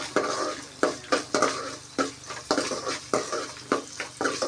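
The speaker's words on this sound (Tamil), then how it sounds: "இப்போ வெங்காயம் நல்லா வணங்கிட்டு இருக்குது" Onions and garlic fry in a pan for a bitter gourd tamarind curry (pagakkai puli kuzhambu), a soft sizzle under a rhythmic series of loud, close spatula scrapes and clatters against the pan.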